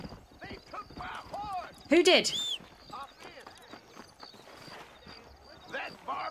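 Horse hooves clip-clopping in the Red Dead Redemption video game, with a loud whinny near the middle, as people talk over the sounds.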